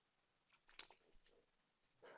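A computer mouse clicks a few times, quietly and close, with faint desk noise and a short rustle near the end.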